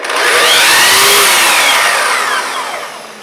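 Festool Kapex miter saw motor spinning up, a loud broadband whine with a high pitched tone that rises right away, holds steady, then eases slightly near the end, heard alone without voices.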